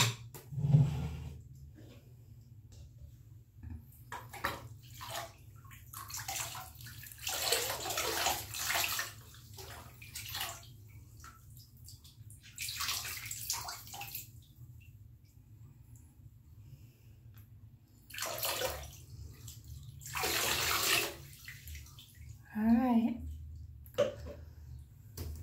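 Water runs and splashes in a bathtub while a dog is bathed at home, broad rushing bursts coming and going over a steady low hum, with people talking at times in between.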